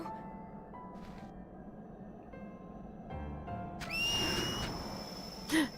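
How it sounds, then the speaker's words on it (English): A character's whistle in the video game Final Fantasy X-2: a short, bright, rising whistled tone midway through, over soft game music and ambience. "Time to whistle."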